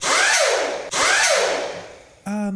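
A power drill whirs loudly in two bursts, each spinning up and winding down in pitch, followed by a short high-pitched tonal whine.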